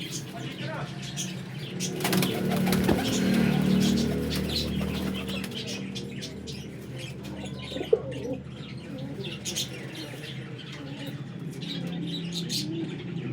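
Pigeons, bred as flying birds, coo and chirp at close range with occasional wing flaps, while someone talks intermittently over them.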